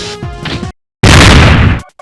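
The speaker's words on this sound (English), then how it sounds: "This infamous ear-bleeding explosion from Grenade Man makes my heart want to burst out of its freaking prison" Grenade Man's explosion from the video game Mega Man 8, a sudden very loud, harsh burst of crashing noise lasting under a second that cuts off abruptly, after a short game sound and a moment of silence.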